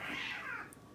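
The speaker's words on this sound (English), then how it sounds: "Some angry ass cat playing." An angry cat lets out one drawn-out, wavering meow, close and fairly loud, that rises and then slowly falls before fading out.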